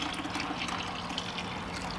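Liquid is stirred into about 2.5 gallons of water in a bucket, giving a steady close swishing and trickling wash of water throughout, with no voices.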